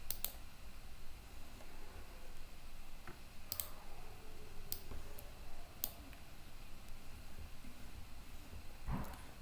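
Sharp, quick mouse clicks sound in a quiet room, including a double-click. A few separate taps are spread out over soft background hiss.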